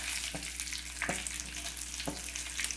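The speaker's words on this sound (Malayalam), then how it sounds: "അപ്പോൾ കറിവേപ്പിലയും വറ്റൽമുളകൊക്കെ പെട്ടെന്ന് തന്നെ ഫ്രൈ ആയിട്ട് വരുമല്ലോ" Curry leaves and cut dried red chillies fry in hot oil, a dense close crackling sizzle punctuated by a few distinct spoon knocks as they are stirred.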